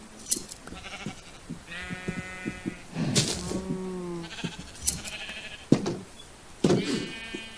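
Sheep in the video game Minecraft bleat repeatedly, several wavering calls overlapping at close range with short clicks and game noises between them and no speech.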